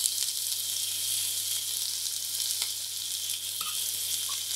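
Cauliflower pieces frying in hot rapeseed oil, a steady bright sizzle that holds throughout with a few faint clinks and pops, close and even, no voices.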